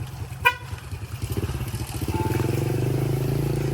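A vehicle horn honks amid the rumble of a motorcycle engine revving up nearby, its drone growing steadier and louder.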